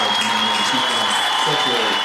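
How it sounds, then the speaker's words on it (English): Dense clapping from an audience fills the clip, steady and loud, with a voice faintly underneath. "Give a round of applause."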